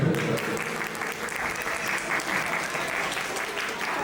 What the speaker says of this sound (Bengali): দাদার জন্য একবার জোরে হাততালি হবে।